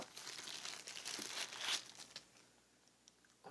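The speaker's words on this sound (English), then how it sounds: "It's in a little plastic bag." Close, crisp crinkling of a small plastic bag being handled, busy at first, then fading to faint scattered rustles.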